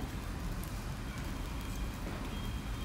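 Sabudana thalipeeth roasting on a pan gives a soft, steady sizzling hiss with faint crackles that stays even throughout, with no talking.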